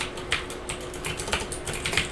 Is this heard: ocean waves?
no